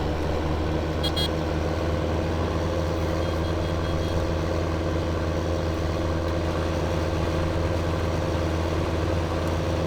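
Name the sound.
vehicle pulling a muck spreader in Farming Simulator 15 video game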